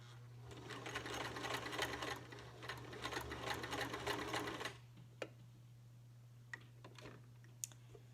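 A sewing machine runs in a close, steady burst while stitching down the pleats of a fabric face mask near the edge, then stops, leaving a few light clicks and taps over a low constant hum.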